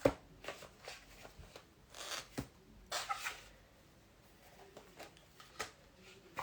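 Oracle cards shuffled by hand at close range, with soft, irregular riffling and slapping bursts that come and go quietly over several seconds, and no talking.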